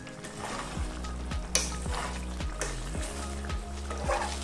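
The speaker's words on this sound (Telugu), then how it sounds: "లాస్ట్లో ఇందులోకి 1/2 కప్పు కొత్తిమీర తరుగు వేసుకొని ఒకసారి మిక్స్ చేసుకుందాము" Stuffed brinjal masala curry being stirred after chopped coriander is added, soft simmering bubbles under a repeated low scraping of a spoon against the pan, with a few sharper clicks.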